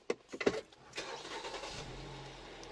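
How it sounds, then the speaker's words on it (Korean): A 2.4-litre petrol four-wheel-drive SUV engine cranks with a few quick bursts, then catches and settles into a steady, quiet idle. "이 차량 바로 시동 한번 걸어보도록 할게요"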